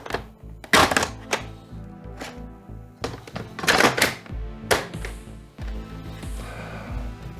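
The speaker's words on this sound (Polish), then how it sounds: "suwak zwalniający hopper, który właśnie umożliwia nam wyciągnięcie" Plastic clunks and clicks from a Nerf Rival Perses blaster as its hopper is released and pulled out, several sharp knocks in short bursts, close and fairly loud, with no talking.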